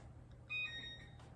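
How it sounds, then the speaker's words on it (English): Kitchen timer going off during cookie baking, a short bright electronic beep burst at moderate distance over a low background hum, heard alone without talk. "Okay, so that timer just went off."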